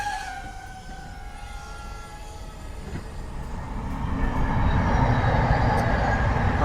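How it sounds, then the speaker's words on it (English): A train rumbles past behind an outdoor DJI Avata 2 drone flight, starting with a faint horn-like tone and swelling into a louder, sustained roar of rolling cars toward the end. "you might see the train going behind me."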